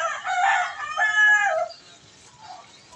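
A small rooster lets out one clear, close crow lasting about a second and a half, followed by quiet background.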